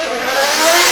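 Nissan Skyline R33 drift car with an RB25 engine and over 700 horsepower on a qualifying run, a loud, close engine scream with a rising pitch and tyre hiss in one brief burst.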